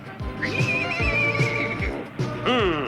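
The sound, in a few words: horse neighing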